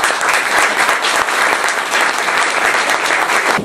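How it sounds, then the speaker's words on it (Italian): An audience claps at a civic gathering before the mayor, Giacomo Mangoni, takes the floor. The applause is loud, dense and sustained, with no speech over it, and it fades slightly near the end. "vorrei veramente un grosso applauso da parte vostra"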